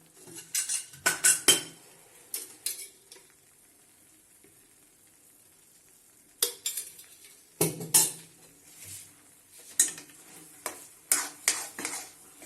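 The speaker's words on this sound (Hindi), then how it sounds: "मैं इसमें थोड़ा सा घी और डाल रही हूँ।" A spoon stirs and scrapes moong dal halwa in a pan as ghee is added, giving clustered metallic clinks and scraping strokes with soft sizzling, broken by quiet pauses.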